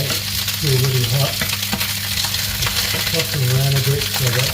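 Yellow paprika peppers fry and sizzle in hot oil in a pan, a loud continuous crackle with stirring scrapes and occasional rhythmic tones throughout, close and unbroken by talk.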